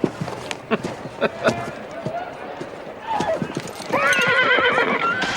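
Horses at a race meeting, hooves clip-clopping in quick uneven beats, then a loud, long neigh near the end, close by over a busy background.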